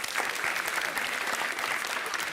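Audience applause in a school quiz contest hall, a steady, dense clapping at fairly close range that continues throughout without a break, with no talking over it.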